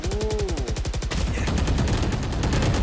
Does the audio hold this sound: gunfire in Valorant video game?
yes